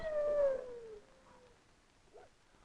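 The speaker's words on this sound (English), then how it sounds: "Howling husky dogs tell us we're in the land of Eskimos." Husky dogs howl in Alaska, one clear, drawn-out howl sliding downward up front while fainter howls and yips trail off in the distance.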